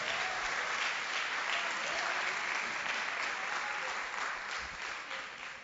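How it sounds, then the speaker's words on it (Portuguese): A church congregation applauds with thick, continuous clapping that holds steady for several seconds before tapering slightly at the end. "Aplauda mais uma vez ao Senhor."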